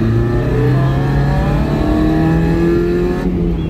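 Mazda MX-5 NA four-cylinder engine revving steadily under load with the clutch slipping, a loud continuous close-up drone whose pitch slides and wavers, with no talk over it.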